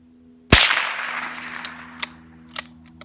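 A single sharp report from a Rugged Obsidian 45 suppressed pistol firing Winchester White Box ammunition into dirt, with a decaying tail and a few faint smaller cracks after it.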